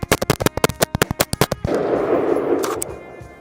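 Rapid string of sharp pistol shots from a handgun fitted with a Flux Raider brace, about a dozen close, loud cracks in quick succession, then a lingering noisy rumble of echo and movement after the firing stops.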